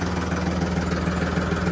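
Tractor engine running steadily, a continuous low droning hum with a constant throb and even level throughout, heard alone without talk.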